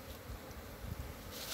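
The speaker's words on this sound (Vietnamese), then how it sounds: "những chú ong thật là dễ thương" Bees buzz softly around a tall beehive more than five meters high, a faint, steady insect hum with occasional brief swells as individual bees pass close.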